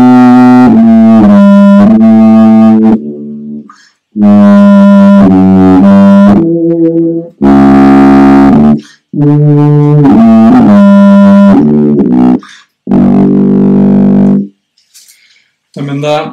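A brass instrument plays a passage through a soft practice mute, sounding as loud, close, sustained tones in several phrases separated by short silences.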